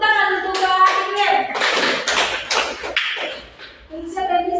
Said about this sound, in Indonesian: Ya, tepuk tangan untuk adik Pia.